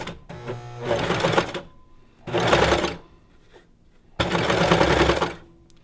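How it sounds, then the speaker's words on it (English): A serger trims and overcasts the edges of ruffle fabric in three loud, steady bursts of whirring stitching, split by short pauses. "a serger basically is just a machine that cuts at the same time and finishes off the edges"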